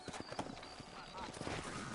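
Horse hooves trotting in the video game Red Dead Redemption, a quick rhythmic clip-clop at moderate distance under a man's speech.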